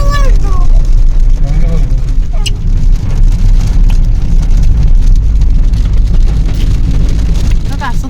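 Heavy monsoon rain pours steadily in a rural Odisha village, a dense, continuous roar close by, with a voice speaking over it now and then and a brief bird-like chirp.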